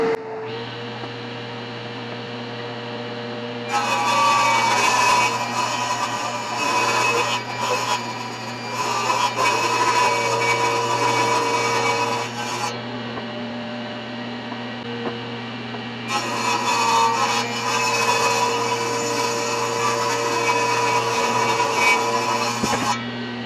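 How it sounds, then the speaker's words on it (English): A table saw over a steady motor hum rips cedar and purpleheart boards in two long, loud cutting passes separated by a short pause, with no speech. "Saw blade, go!"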